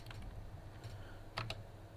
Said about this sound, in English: Why isn't the keyboard working to move me?